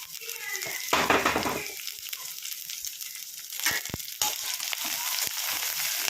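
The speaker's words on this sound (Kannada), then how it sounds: "ಫ್ರೈ ಮಾಡ್ಕೊಳ್ಳೋಣ" Onion, crushed garlic, curry leaves and dried red chillies fry in a pan for a beetroot stir-fry, giving a steady close sizzle with a louder burst of clattering stirring near the start and a few sharp knocks later.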